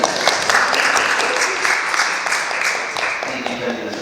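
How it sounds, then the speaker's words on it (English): A church audience at a magic show applauds Tony, with steady, dense clapping that holds loud and even throughout before tapering slightly at the end. "give another round of applause for Tony"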